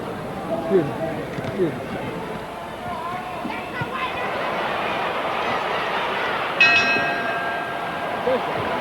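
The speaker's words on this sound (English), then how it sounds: "And the bell sounds, ending round 11" A boxing bell ends round 11 of a heavyweight bout, Muhammad Ali against Jimmy Ellis, ringing as a brief bright clang in the latter part of the clip over a noisy arena crowd and ringside commentary.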